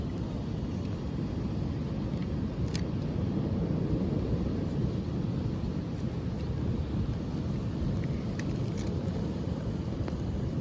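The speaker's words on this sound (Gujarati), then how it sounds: "વરસાદ પણ આવવા મળ્યો છે મિત્રો" Steady, heavy rainfall hisses continuously and evenly, with a low rumbling undertone and no voices.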